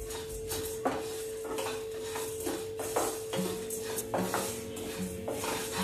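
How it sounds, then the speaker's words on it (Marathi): A spoon stirs poha, sago, coriander and cumin as they dry-roast in a pan, giving repeated soft scraping and clinking against the metal at a steady, unhurried rhythm, close and fairly quiet, with no speech. "हे सर्व मी कंटिन्यू मिक्स करत व्यवस्थित 2 मिनिटं रोस्ट करून घेतलंय."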